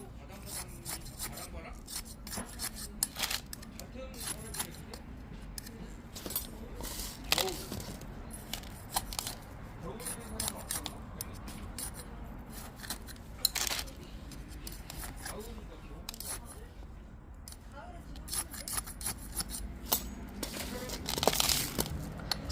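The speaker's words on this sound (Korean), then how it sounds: "요 위에 있는 아이도 테두리 라인을 가위로 조금씩 잘라 주시면 되세요" Scissors snip and rasp in quick, irregular bursts while trimming the edges of succulent leaves during repotting, close and fairly quiet with small rustles between cuts.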